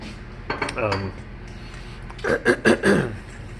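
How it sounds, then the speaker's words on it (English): A spoon stirs biscotti dough ingredients in a bowl, giving a few soft scraping clinks early on and then a cluster of louder knocks against the bowl near the end, with no talk. "stirring all this in, getting it all mixed up together"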